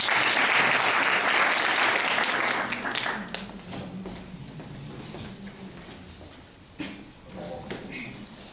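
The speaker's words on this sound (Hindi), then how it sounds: "तो जोरदार ताली के साथ आप उनका अभिवादन करें" Audience applause greeting a doctor invited to give a cancer prevention talk, loud dense clapping from a large crowd that fades after about three seconds into scattered claps and murmur.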